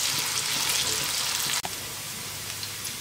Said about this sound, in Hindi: अभी हमें आलू को अच्छे से फ्राई करना है।